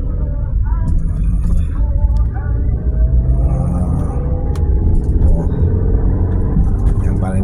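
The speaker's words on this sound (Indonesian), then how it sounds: "Macet kanan kiri merayap." Dense, slow-crawling traffic jam on a busy Palembang road heading from the airport toward Kenten, a steady loud rumble of car engines filling the whole stretch with no break.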